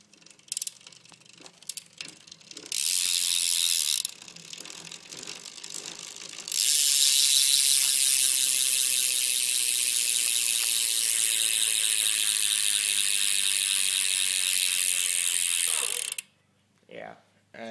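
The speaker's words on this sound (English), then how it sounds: "here's a hub noise of it" Ratchet clicking from an Odyssey v3 cassette hub on a bicycle wheel laced to a quadrant rim, a loud, dense, continuous buzz of pawls that starts, halts briefly, then runs steadily for about ten seconds before stopping.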